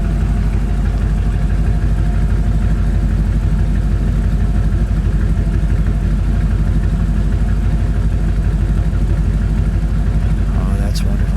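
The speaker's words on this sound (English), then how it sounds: "Let me let you listen to this tugboat. Comes straight out the exhaust there." A 1954 Cadillac Eldorado convertible idles close by, its exhaust giving a steady, deep, even rumble that holds throughout, with a brief higher sound near the end.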